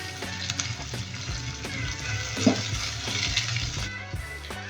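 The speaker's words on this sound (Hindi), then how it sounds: "अब इसमें डालेंगे हम प्याज और उनको फ्राई कर लेंगे" Onions frying in hot ghee in a pan for tarka moong dal, a steady close sizzle with occasional light stirring clicks, no voices.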